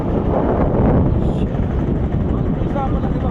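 A loud, continuous rumble of a boat engine as the boat is maneuvered on a river during Typhoon Kristine, with wind buffeting the microphone and a voice talking over the noise.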